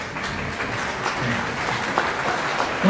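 An audience at a community distribution event breaks into sustained applause, a dense steady clapping that carries through from start to end.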